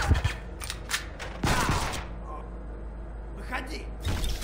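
Gunfire from the video game Counterspy comes as a quick burst of sharp shots, then a longer rattling volley that fades into quiet, with a few more clicks and bursts at the end.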